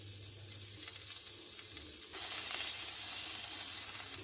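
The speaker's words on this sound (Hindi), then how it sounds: "अब हम एक पैन में मक्खन डाल देंगे 1 खाने का चम्मच और 2 से 3 खाने का चम्मच इसमें ऑयल डाल देंगे।" Butter and oil heat in a pan before chicken fillet is added, giving a steady, close sizzle and hiss that grows louder and brighter about halfway through, with no talking.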